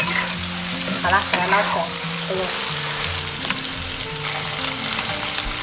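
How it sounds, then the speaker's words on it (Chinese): Ingredients stir-fried in oil for a home-style spicy numbing stir-fry pot, a steady loud sizzle with scraping stirring strokes throughout and a brief spoken remark near the start. "这样子稍微给它炒一下，喷入1圈料酒去腥。"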